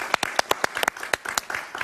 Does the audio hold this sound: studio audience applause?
yes